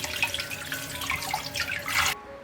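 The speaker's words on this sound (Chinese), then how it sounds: "我们来简单清洗一下，先把瘦肉跟猪肝呢洗出来" Pork liver and lean meat rinsed under running tap water in a kitchen sink, a steady splashing stream that stops abruptly after about two seconds, close by with no talking.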